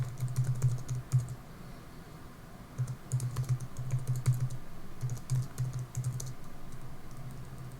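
Rapid bursts of typing on a computer keyboard come in uneven runs of clicks with short pauses between them, close and moderately loud over a low steady hum.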